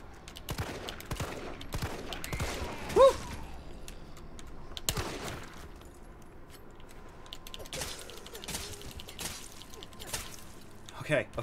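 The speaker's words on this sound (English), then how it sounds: "Oh my god, I'm panic shooting now." Gunfire from the Resident Evil 3 Remake demo, a rapid string of fairly faint game shots and impacts mixed with keyboard and mouse clicking, a few louder hits standing out.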